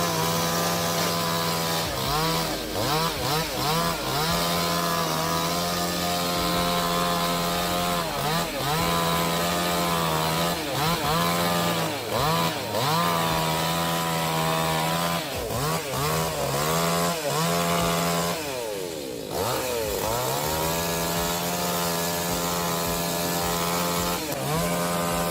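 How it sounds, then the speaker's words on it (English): A chainsaw cuts into a tree, its engine whining loudly with the pitch dropping and rising as the chain bites into the wood and the throttle eases off, continuous and close for the whole stretch. "What do you think about this chainsaw?"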